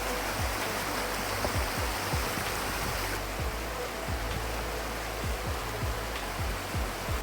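A river at Akchour in Morocco rushes over stones in a steady, loud, broadband wash that fills the whole stretch, with faint low knocks beneath the flow and no voices.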